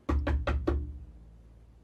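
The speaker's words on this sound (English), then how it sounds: "And then you reach the bottom and you hear a knock on the door." Knock on a door in a pixel-art horror video game: four evenly spaced, hollow, close knocks in quick succession, followed by a fading low resonance and quiet background.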